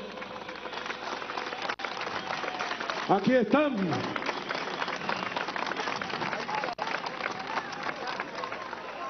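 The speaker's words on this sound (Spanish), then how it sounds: "Yo pido un aplauso por estas mujeres valientes." Dense, crackling applause from a large crowd at a political march runs continuously, with a voice speaking over it near the middle.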